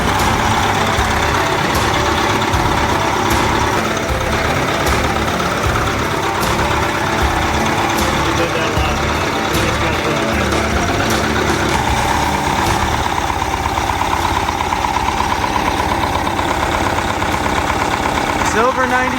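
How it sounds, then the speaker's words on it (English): A silver 92-series Detroit diesel engine idles with a steady, dense rumble throughout, people chatting casually over it. "Silver 92 Detroit diesel."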